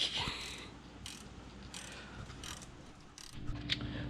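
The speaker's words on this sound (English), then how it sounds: "I usually skip this part because I think people get the idea of turning a bolt" Faint ratchet clicks while a bolt is turned on a Can-Am Outlander XMR 1000 ATV, quick bursts of mechanical ticking spread over a few seconds against low background noise.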